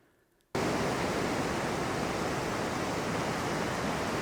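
Broadband rushing sea noise at night, heard from a terrace of a hot spring resort in Nanki-Shirahama, Japan; it starts abruptly after half a second of near silence and then holds steady and loud with no voices.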